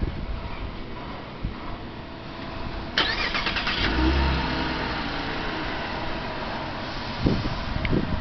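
Red 2011 Chevy Camaro RS convertible started by remote start: the engine cranks and catches about three seconds in, then settles into a steady idle, with a brief rev near the end.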